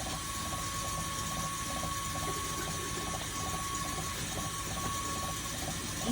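Cold water pouring steadily from a tap to mix with homemade kombucha in a kitchen, a continuous even rushing hiss heard close by, with no talk.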